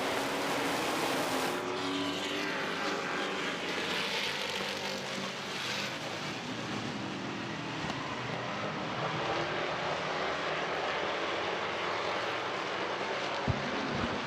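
Race cars at Midvale Speedway scream through the final lap, a loud sustained engine roar that swells as the pack passes close, then carries on at a steady high pitch as they circle the track.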